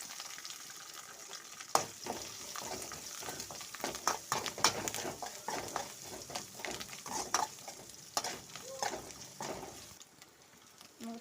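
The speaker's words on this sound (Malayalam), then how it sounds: "കുറച്ച് കറിവേപ്പില ഇടാം തേങ്ങാക്കൊത്തിട്ട് കൊടുക്കാം" Curry leaves and coconut pieces frying in oil for Kerala-style beef peralan, a soft crackling sizzle with repeated stirring scrapes and taps, fading quieter toward the end, no voices.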